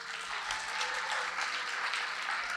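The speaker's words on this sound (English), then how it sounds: "Let's all give one last round of applause for our storytellers tonight." An audience at a storytelling evening in Hawaii gives a final round of applause, a thick, even wash of many hands clapping continuously, slightly distant and unbroken by voices.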